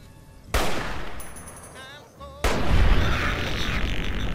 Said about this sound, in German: Mit meinem Gobi-Kampagne-Sperrgewehr schieße.